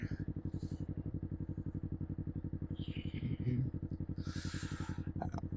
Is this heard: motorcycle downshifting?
yes